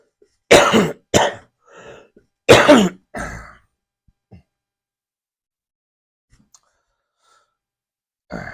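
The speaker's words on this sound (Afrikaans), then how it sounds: "as ek klaar gehoes het" A preacher coughs and clears his throat in a church service, with several harsh bursts in close succession, some raspy and drawn out, then a long quiet pause before one last short cough.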